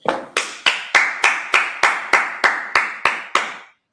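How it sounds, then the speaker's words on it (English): A church congregation at a Sabbath service claps their hands in unison, about eleven sharp, evenly spaced claps at a brisk steady beat, loud and close, then stops. "Let's clap it up."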